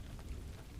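Steady rain falls on a cold, rainy day as a soft, continuous hiss with no distinct drops, heard alone at a low, even level.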